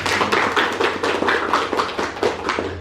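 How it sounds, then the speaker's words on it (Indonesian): A small group claps hands together in a steady, quick rhythm during a school group counseling session, loud and close with no talking. "Mari kita tepuk tangan untuk kita bersama."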